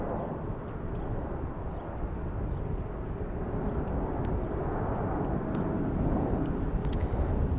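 An Airbus A330 airliner taxiing at Salt Lake City gives off a steady, moderate jet engine rumble, broad and unbroken, with a few faint clicks over it and no speech.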